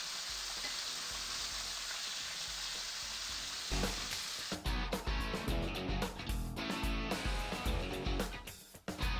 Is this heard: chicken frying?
yes